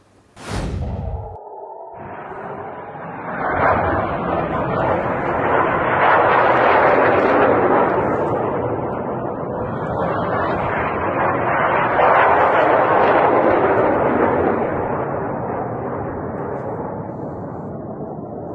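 Missile strike and interception fire in Israel: a sharp whoosh opens, then a long loud roaring rumble of blasts and rushing fire that swells and persists, distant and heavy.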